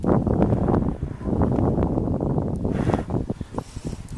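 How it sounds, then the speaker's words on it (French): Wind gusts in a steady broadband rush across the microphone aboard a Klepper folding boat under sail, loud and continuous with fluttering buffets, and no voices. "Ah, il souffle bien le vent."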